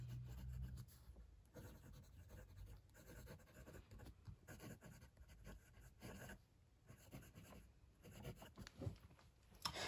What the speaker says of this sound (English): Okay, let's do some writing.